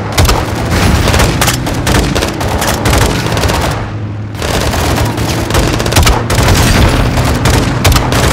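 Launcher rocket explosion amid a firefight in Modern Warfare 2 on PC, loud continuous gunfire and booming blasts with a short dip in the middle before the heavy shooting resumes.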